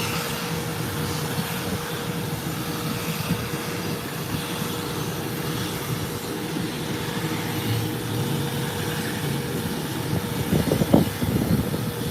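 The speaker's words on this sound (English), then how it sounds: "Yes, propeller planes can be loud." A propeller plane passes overhead near an airport, a steady droning engine hum with a faint tonal whine that holds throughout and swells slightly toward the end, with no talking.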